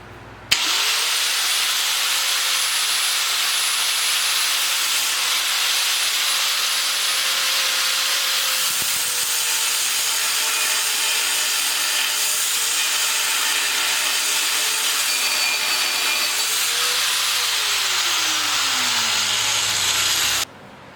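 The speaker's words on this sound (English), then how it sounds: "the cutoff wheel gets really loud" A cutoff wheel grinds steadily through a homemade WWII-style dummy bomb for about twenty seconds, a loud, continuous high-pitched whine with shifting pitch, close up and with no talking.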